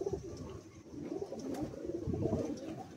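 Madrasi and desi pigeons in a cage coo softly and repeatedly, with low, throaty calls overlapping close by at a fairly quiet level.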